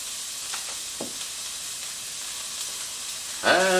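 Mince and chopped onion frying in a hot pan, a steady close sizzle with a few faint scrapes, then a sudden louder burst of spitting sizzle near the end.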